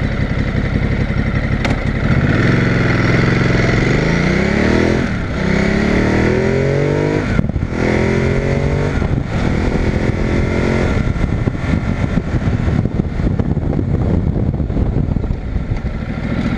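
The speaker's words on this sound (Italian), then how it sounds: "Adesso vi faccio vedere una frenata, così vi rendete conto anche di quanto affonda." A Ducati Multistrada 950 on Pirelli Scorpion Trail 2 tyres brakes hard: the loud engine drops in pitch as it decelerates, with gear changes and throttle blips before a rough, uneven running sound near the microphone.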